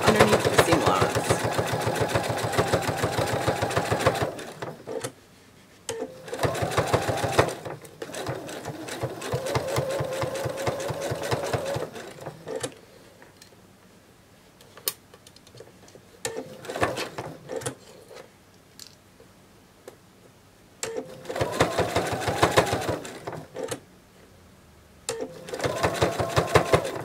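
A sewing machine stitching a penguin plush runs in bursts of steady rapid whirring, stopping and starting several times with quiet handling noises in the pauses and occasional talking between runs.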